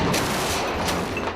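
Soldiers fire guns on a training range, a loud, close volley of overlapping shots with sharp cracks at steady intervals over a thick, continuous roar.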